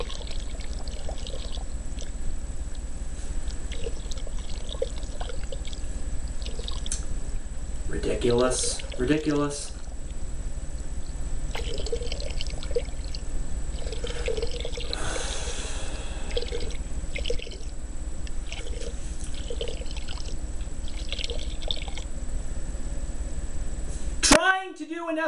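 Urine or water pours into a toilet bowl as a steady liquid trickle, with a louder splashing burst partway through, while a person talks over it in a small room.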